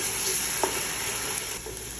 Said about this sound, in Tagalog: At halu-haluin ko lang siya ng 1 minute.